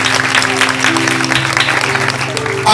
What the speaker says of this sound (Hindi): तो आइए उस यीशु के लिए जोर से ताली बजाएं